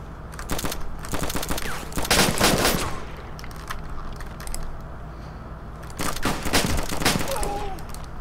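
Rapid bursts of automatic gunfire in DayZ, two dense loud volleys separated by sparser single shots and clatter, with a faint voice underneath.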